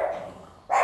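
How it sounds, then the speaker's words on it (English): A dog named Truman barks in a room, two loud close barks separated by a brief quieter lull, with no talking. "Second week in a row that you're barking at nothing"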